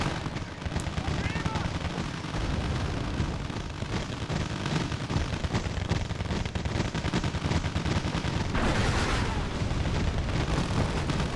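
Infantry combat in Wargame: AirLand Battle, with dense overlapping gunfire and heavier blasts forming a loud, continuous battle din, and talk running faintly underneath.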